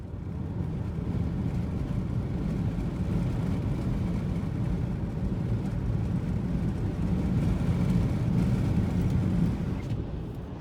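Car being driven through the desert, a steady low engine and road drone heard from inside, continuous and fairly loud without pauses.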